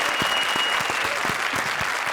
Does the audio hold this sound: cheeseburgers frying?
no